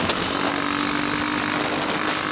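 KTM 530 Supermoto motorcycle with supermoto rims cruising on a freeway, a steady loud engine drone mixed with heavy wind rush, continuous throughout with no talk.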